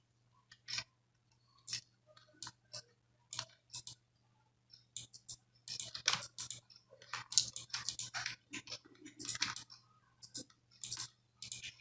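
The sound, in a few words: typing on a computer keyboard in Adobe Illustrator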